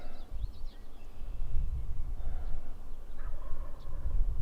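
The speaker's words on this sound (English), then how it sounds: "He's gobbling his head off now." A wild turkey gobbles in the distance on public land near a road, with several faint rattling gobble bursts standing out above a low, steady outdoor rumble, alone with no voices.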